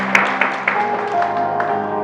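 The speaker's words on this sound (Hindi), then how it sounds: "इनके लिए जोरदार तालियां" Audience applause for the quiz teams at a school quiz competition, steady clapping with a few sharper claps standing out, fairly close and filling the short stretch.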